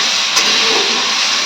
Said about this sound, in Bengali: ফোড়নে দিচ্ছে জিরা